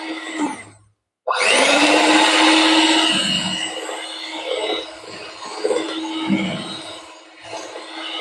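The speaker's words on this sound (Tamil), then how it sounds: "இந்த மாதிரி நல்லா பீட் பண்ணிக்கிறேன்." An electric beater whirs loudly and steadily through a bowl of cake batter made with oil, sugar and egg for butterless cake, its motor pitch wavering slightly as the beaters churn, after a brief pause at the start.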